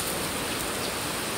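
Heavy rain pours steadily in Hong Kong, a dense unbroken hiss of downpour on surfaces with no voices.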